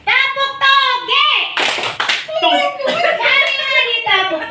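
A group of adults claps along to the 'tepuk toge' chant, a rhythmic clapping game at a teachers' session, with voices chanting loudly over a burst of clapping near the middle.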